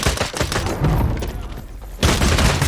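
Shotgun blasts in the video game Bloodhunt: loud, booming broadband shots, one early burst and another sharp blast near the end, with the gunfire carrying no voices over it.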